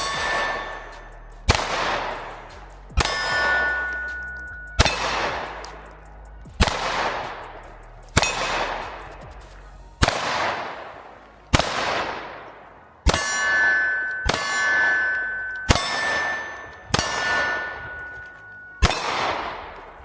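Smith & Wesson Shield X pistol fired in a steady string of about a dozen sharp, loud shots roughly a second and a half apart. Each crack trails off in a ringing, metallic decay, with no talking.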